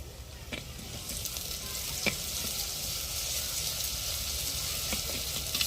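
Onions frying with ginger paste in a pan give a steady, close sizzle that runs throughout, broken by a few brief scrapes of stirring, with no talking.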